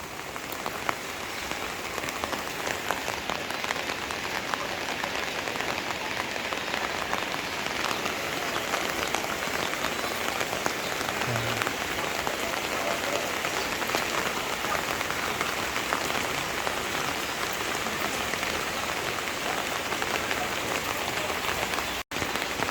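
Heavy rain pours steadily, a dense hiss of splashing drops on a hard surface, continuous and close, with no voices.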